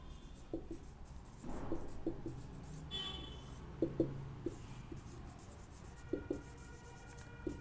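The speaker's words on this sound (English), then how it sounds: "So I will write the general chemical reactions" Pen or chalk writing out a chemical reaction during a thermochemistry lesson: faint, scratchy strokes and light taps in irregular short bursts against a quiet room hum.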